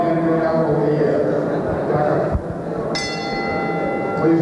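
A boxing timekeeper strikes the ring bell in a ten-bell salute for deceased boxers; a few bright metallic rings cut through a crowd murmur in an arena.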